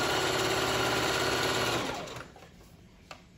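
A sewing machine stitches a leather slingshot thong in a steady, fast run for about two seconds, then stops, leaving quiet handling noise and one faint tap.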